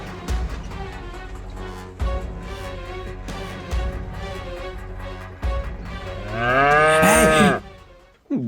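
Cows low near a halted bullock cart: soft, repeated low thumps and rumbles, then one long, loud, rising-and-falling moo close by near the end.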